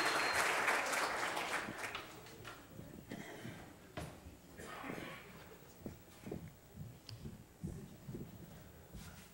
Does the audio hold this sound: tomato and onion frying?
no